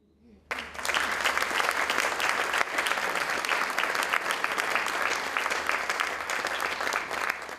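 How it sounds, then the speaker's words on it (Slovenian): A crowd breaks into loud applause for award winners at a community event in Radenci, bursting in abruptly and staying full and steady to the end. "prosim za vse 3 oziroma 4, še en velik aplavz"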